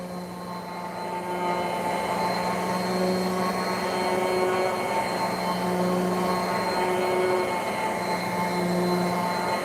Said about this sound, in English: Built with a furnace motor, a furnace blower motor.